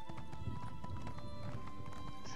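Horse hooves gallop in a steady, rapid rhythm in the video game The Elder Scrolls Online, playing continuously under sustained background music tones.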